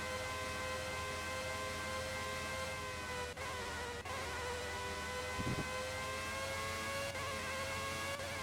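A Formula 1 car in the PS1 game Formula 1 97 screams at high pitch with a whining, synthesized engine tone, briefly dipping at gear changes as it climbs through the gears, loud and steady without speech.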